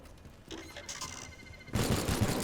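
Bursts of rapid synthetic robot gunfire in the video game Teardown erupt loudly after a quieter stretch of game sounds, a dense mechanical rattle filling the last second.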